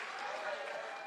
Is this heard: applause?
yes